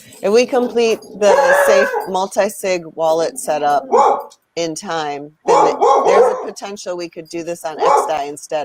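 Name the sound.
dogs barking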